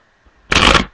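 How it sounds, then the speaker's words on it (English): A deck of playing cards is shuffled in one quick, loud riffle burst lasting about half a second, preceded by a quiet moment with a faint background hum. "we'll even do a little shuffle like this"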